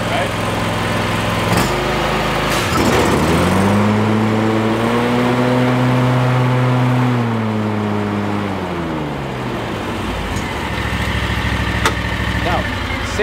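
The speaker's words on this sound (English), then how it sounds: "to engage the blades, you want to engage the blades at half throttle" Stand-on zero turn mower running steadily with its blades engaged, a loud continuous engine drone whose pitch dips and rises as the throttle changes, close to the microphone, with speech over it.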